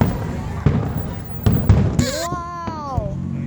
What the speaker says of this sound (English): We got fireworks!